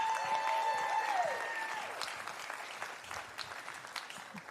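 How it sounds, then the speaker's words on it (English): A Demo Day audience in San Antonio breaks into applause to welcome a panelist to the stage, a steady wash of clapping with a held electronic tone fading out early, fairly distant and even throughout. "Please welcome on the stage with the biggest round of applause"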